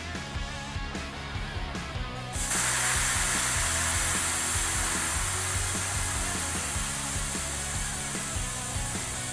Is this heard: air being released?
yes